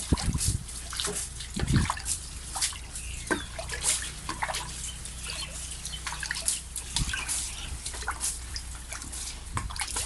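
Homemade egg and milk fertilizer is thrown from a container onto garden plants, landing as repeated splashes and drips on leaves and soil, close and in irregular bursts.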